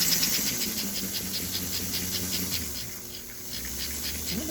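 A 287 Pacific steam locomotive gives off a quick, even run of soft hissing chuffs at close range, each puff short and airy, the beat slowing and fading toward the end.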